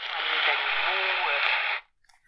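A Sony ICF-P20 portable radio tuned to a distant AM station 860 CJBC from Toronto, Ontario, with a weak signal: a steady band of filtered broadcast sound, likely a voice, lasting under two seconds before cutting off.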